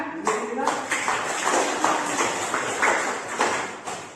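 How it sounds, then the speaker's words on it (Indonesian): A classroom audience at a lecture on Islamic banking claps in a steady burst of fairly faint, sharp hand claps, sustained for several seconds in a reverberant room. "Ya, tepuk tangan."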